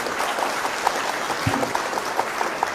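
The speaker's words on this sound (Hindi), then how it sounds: "जोरदार तालियों से इस्तकबाल करें मोहतरमा खुशबू शर्मा।" Loud, steady applause from a mushaira audience welcoming the poet Khushboo Sharma, dense clapping filling the whole stretch with a few sharper claps standing out.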